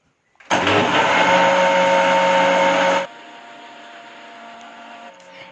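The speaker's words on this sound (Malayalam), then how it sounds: "പിന്നെ ഇത് ബ്ലെൻഡ് ചെയ്യാം" A kitchen blender whirs loudly and steadily for a few seconds, blending oats and milk into a smoothie, then cuts out to a much quieter lingering motor hum.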